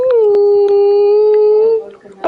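A dog howls in one long sustained, wavering tone close and loud, with faint clicks and background noise, before the howl fades out near the end.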